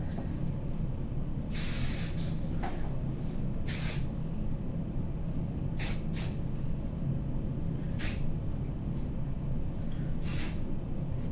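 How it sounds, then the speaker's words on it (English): Hairspray hisses onto teased hair in about six short bursts spaced a second or two apart, each a close, bright spritz over a steady low room rumble. "I'm gonna spray it yet again with hairspray."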